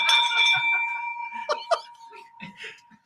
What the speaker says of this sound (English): Let's ring that bell for him.